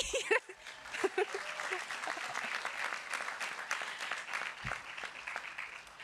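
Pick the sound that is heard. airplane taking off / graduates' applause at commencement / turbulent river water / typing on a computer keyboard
graduates' applause at commencement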